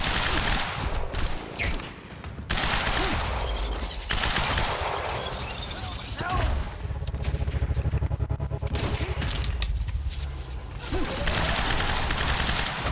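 Sustained automatic gunfire and rapid bursts from the video game Quantum Break, loud and dense throughout, with booms and chaotic combat noise layered over it.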